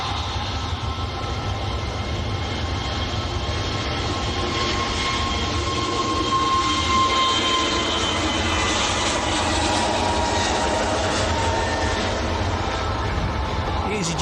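An Emirates airliner making a full-length takeoff roll at Manchester Airport, a steady broad engine roar holding loud and constant throughout at a distance, with faint talk underneath.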